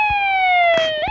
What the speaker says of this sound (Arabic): انطلقت دورية الشرطة